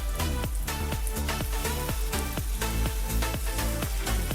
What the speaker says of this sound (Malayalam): ഇനി ഇതിലേക്ക് ഉപ്പുവെള്ളം ഒഴിച്ചു കൊടുക്കാം